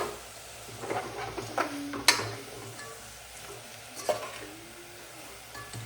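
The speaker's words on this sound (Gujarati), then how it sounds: "આ રીતે આપણે હલવી નાખીએ એટલે બટેકા આપણા મસ્ત મજાના ચડી ગયા" Sliced potatoes frying as chips in plenty of oil are stirred in the pan, giving a soft steady sizzle with a few scraping knocks of the utensil, the loudest near the middle, and no talking.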